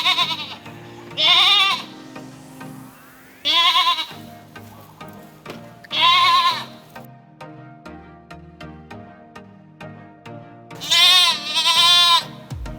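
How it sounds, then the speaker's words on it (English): Goats on a Hawaii farm bleat in several loud, wavering calls spaced a few seconds apart, close by, with quieter shuffling and background noise between them. "this is actually Casa Goat, where all of the yoga goats hang out"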